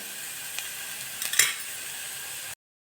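Red chilli and coriander powder stirred into sprouted gram sambar in a sizzling pan, a steady close hiss with a few soft scrapes of the spoon, ending abruptly.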